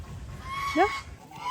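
A goose gives one short, rising honk over a low, steady outdoor rumble.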